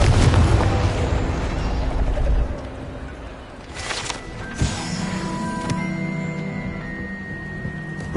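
A Confringo spell blasts in Hogwarts Legacy on PS4 with a loud, booming explosion that rumbles for a couple of seconds, then gives way to quieter magical chimes and game effects.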